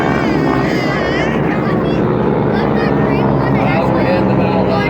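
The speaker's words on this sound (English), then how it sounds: "Overhead the Val-Eye bomber." A Val bomber replica flies overhead at the Wings Over Wayne air show in Goldsboro, North Carolina, its loud, steady propeller engine roar filling the air while an announcer speaks over the public address.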